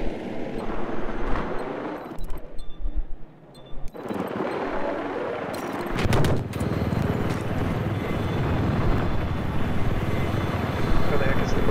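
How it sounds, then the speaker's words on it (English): A helicopter's rotor in the Battlefield 4 beta on the Shanghai map thrums loudly and steadily, mixed with bursts of gunfire and a brief lull, while voices talk over the action. "I have eyes on an enemy helicopter east of your position."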